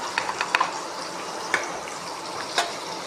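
Chopped onions sizzle in hot oil with curry leaves in a pan for dried-fish (karuvadu) gravy. A steady, close hiss is broken by a few sharp clinks and scrapes of stirring, with no voices.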